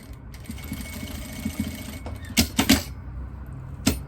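A sewing machine makes a brief, close run of rapid mechanical stitching, then a few sharper clacks as it backstitches at the end of a seam on a fabric placemat.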